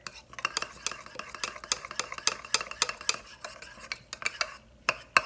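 A utensil stirs sauce for Asian lettuce wraps in a bowl, giving rapid repeated clinking and scraping strokes up close in a steady rhythm, with no voices.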